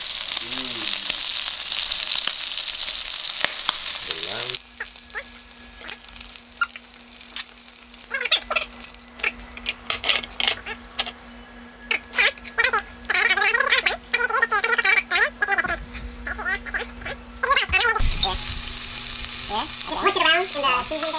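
Lamb sizzles and spits in a pan of nearly finished sauce, a steady frying hiss with stirring scrapes over it, and a voice talks in the middle stretch.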